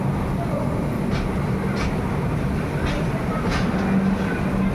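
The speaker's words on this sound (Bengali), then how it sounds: "এখন আমরা কাটপাতি জংশন ছেড়ে চলে যাচ্ছি" The Shalimar Express pulls out of Katpadi Junction, heard from inside as a steady rolling rumble with light rhythmic clicks from the wheels on the track.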